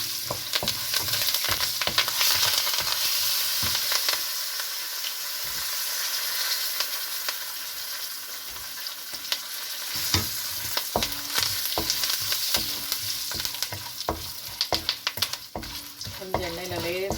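Roasted peanuts fry and sizzle in oil in a pan while puliyotharai is cooked, a loud continuous crackle with repeated stirring scrapes and clatters throughout.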